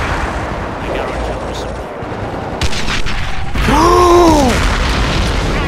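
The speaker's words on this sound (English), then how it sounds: "Mortar, my god." Mortar rounds in the World War II strategy game Company of Heroes hit with loud, rumbling booms and bursts amid other battle noise, while someone talks excitedly over them.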